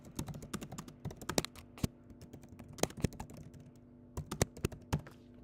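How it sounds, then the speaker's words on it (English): Rapid, irregular keystrokes on a computer keyboard while editing text in the SmartSuite software, clicky taps arriving in bursts with short pauses, close and moderately quiet. "I can now go and start making changes by just typing into that box."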